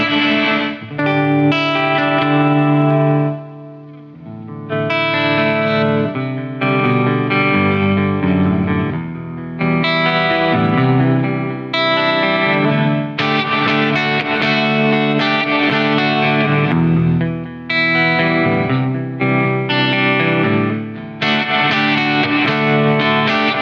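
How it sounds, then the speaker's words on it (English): An electric guitar plays through a Marshall DLS 20 H amp with reverb and delay in the effects loop, giving a fairly clean tone. Sustained chords and phrases ring out with echoing tails, loud and steady, with no talking. "Fairly clean, sterile Marshall kind of sound, even with some delay and reverb in the loop."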